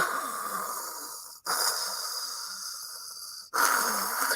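Heavy, labored breathing in long rasping breaths that last about two seconds each, with sharp breaks between them. It is loud and close, and nobody speaks.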